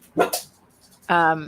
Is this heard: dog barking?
yes